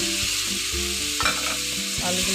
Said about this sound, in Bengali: এবার আমি দিয়ে দেবো ভেজে রাখা আলুগুলো